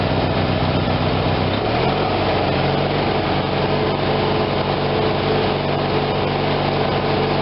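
A Briggs and Stratton twin-cylinder lawn tractor engine runs loud and steady nearby, its pitch climbing as it revs up around the second mark and then holding at higher speed.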